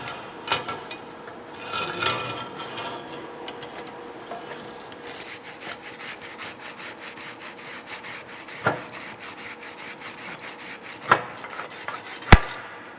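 A weld bead on a steel tee joint is cleaned with steady, low scraping and rubbing, close by, broken by a few sharp metallic knocks near the end.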